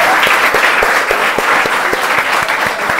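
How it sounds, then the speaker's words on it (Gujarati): Steady applause from an audience for a boy who has just won a game at an anchoring training event, dense and continuous throughout at moderate loudness with some distinct louder claps. "એટલે જીત મેળવવા માટે હજી એકવાર તાળીઓ થવી જોઈએ ભાઈ આ છોકરા માટે."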